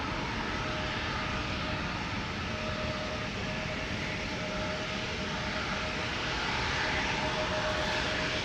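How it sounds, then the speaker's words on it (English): A KLM Embraer 175 jet departing Amsterdam Schiphol roars steadily as a broad, constant engine rush with a faint thin whine, loud and sustained throughout with no talk. "Embraer 175, destination Hamburg, KLM flight 1753."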